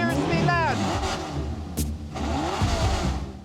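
Car engine revving hard through a loud custom exhaust, heard as a close, rising roar with a brief sharp burst midway, then another climb toward the end. Speech is likely mixed in beneath the roar.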